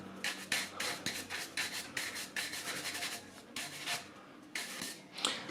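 A brush works oil into the carved grooves of an engraved bone Viking cup, giving a series of short scratchy bristle strokes in an uneven rhythm, close and fairly quiet.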